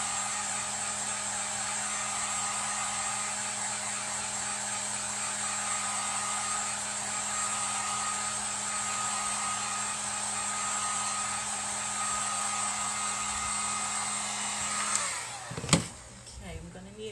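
A hair dryer blows steadily and close by while drying fresh paint on home decor, a continuous loud whir that cuts off near the end, followed by a few knocks and handling sounds.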